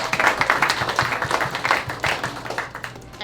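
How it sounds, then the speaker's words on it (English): An audience at a Citizens of the Year ceremony applauds, a dense burst of many hands clapping that fades slightly toward the end. "Let's give everybody a nice round of applause."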